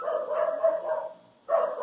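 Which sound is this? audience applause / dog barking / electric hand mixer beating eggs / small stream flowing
dog barking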